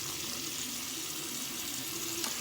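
Tap water running steadily into a sink to rinse a shaving brush, an even hiss and splash held throughout at moderate closeness, with no speech.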